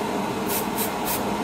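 Spray paint hisses in three short bursts onto the wheels of a 1/35 scale Leopard 2 model tank, heard close against a steady background hum with no voices.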